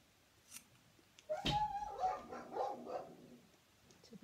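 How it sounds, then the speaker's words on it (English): A few dog barks in the distance, a short cluster of yips and woofs against a quiet background. "Typically, the dogs have started barking."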